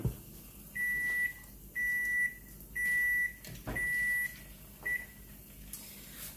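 A kitchen timer set for three minutes sounds off in a kitchen with five loud, evenly spaced electronic beeps, each lasting about half a second, with no voices.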